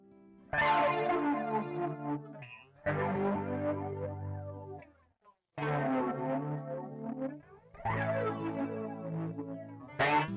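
Four phrases of clean electric guitar chords through a Fender 2x12 amp sim, drenched in chorus and reverb, ring out shimmering and sustained, with brief pauses between them.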